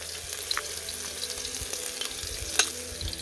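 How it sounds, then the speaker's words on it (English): Garlic and chili paste frying in oil on a Trangia stove, a soft, steady sizzle and crackle with a few sharper pops and utensil clinks, quiet and close, without talk. "In the recipe it says cook it until it stops sputtering."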